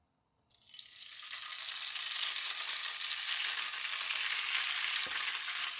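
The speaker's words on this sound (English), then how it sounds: "The oil sliding really nicely around the pan. So let's add the noodles." Rice noodles dropped into hot oil in a pan, bursting into a steady, bright sizzle that holds on with a faint crackle throughout, no voices.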